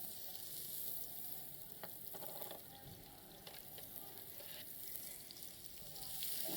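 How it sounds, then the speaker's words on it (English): Chopped onions sautéing in a pan at a live cooking demonstration at a food show, giving a quiet, steady sizzle with faint stirring and background hall noise. "Okay, I'm going to add some onions here."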